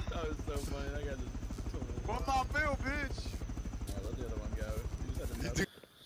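A helicopter in a video game drones with a fast rhythmic rotor chop throughout, while people talk excitedly over it; the chopping cuts off abruptly near the end.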